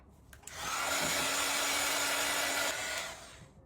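A hair dryer blows on stenciled paint on a frame, rising to a steady whooshing roar for about two seconds before cutting off, after a brief click at the start.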